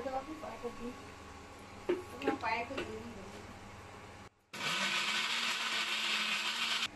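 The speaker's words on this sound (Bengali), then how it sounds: "এবার সব একসাথে পেস্ট করে নেবো" A kitchen blender grinds soaked raisins and amla into a homemade chyawanprash paste. Talk comes first; then the blender kicks in suddenly and runs loud and steady, with a continuous high whir.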